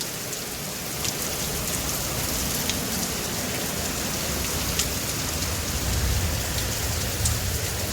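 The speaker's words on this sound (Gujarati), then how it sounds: "હવે ફૂલ વરસાદ છે. વીજળીના કડાકા ફૂલ." A heavy nighttime downpour hammers a tiled roof in a constant, loud wash of drops, with faint low rumbles of thunder rolling beneath the steady rain.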